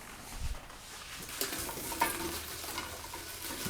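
Vegan sausage, crispy outside and soft inside, hits a pan and is stirred through, giving a steady close sizzle with scraping and light clinks of the utensil against the pan.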